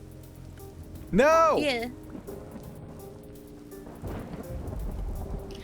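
Rain and thunder in the survival game Vintage Story: a steady wash of rainfall runs throughout, with a louder rumble swelling near the end, while people briefly speak over it.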